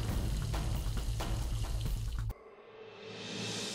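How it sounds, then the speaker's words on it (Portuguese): Water from a tap running steadily into a sink, loud and continuous, then cutting to a softer, rising hiss as a glass fills. "Abrir a torneira e encher o copo exigem consciência."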